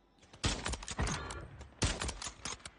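Sniper rifle fire in the Call of Duty Warzone video game: two loud cracks about a second and a half apart, each followed by a rattling, echoing tail of game effects.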